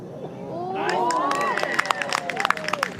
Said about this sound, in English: And a bit of cheer for her as well.